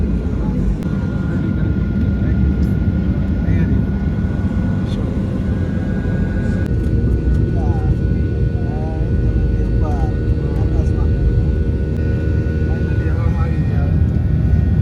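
From inside the cabin of a SpiceJet passenger airplane taking off from Ahmedabad, a loud continuous engine roar and rumble persists throughout, with a voice talking faintly beneath it.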